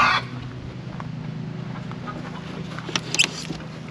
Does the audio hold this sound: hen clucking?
yes